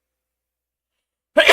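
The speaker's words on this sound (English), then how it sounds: "And I'm gonna sneeze in a sec." A single short, sharp sneeze bursts out close to the mic at the end of a silent stretch.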